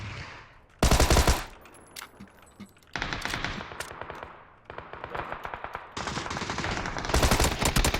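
Gunfire in a video game: loud bursts of rapid automatic fire, some long and some short, broken by quieter gaps with fainter distant shots.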